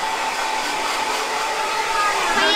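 A black hair dryer running at home, a loud, steady rushing whoosh of blown air that holds constant throughout.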